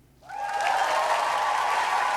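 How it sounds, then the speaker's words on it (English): Audience applause at a music awards show, a sustained burst of clapping that rises quickly and holds steady for a couple of seconds. "And there's the applause."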